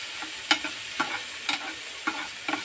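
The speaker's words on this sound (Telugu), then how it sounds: "టమాటా తరుగు కూడా వేసాను. వేసి దీన్ని కాస్త బాగా ఫ్రై చేద్దాం." Chopped tomato and carrot fry in a pan with a steady sizzle, while a spatula stirs them with regular scraping knocks about every half second.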